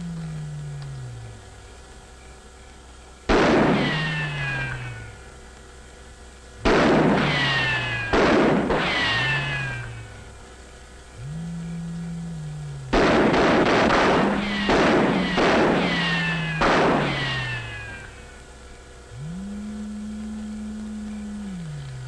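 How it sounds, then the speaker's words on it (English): Several rounds of rifle fire from soldiers in a 1957 science-fiction film, sharp loud cracks with echoing tails, some spaced and some in quick clusters, heard over a sustained orchestral music bed. "Maybe if we fired a few rounds, it might scare them out."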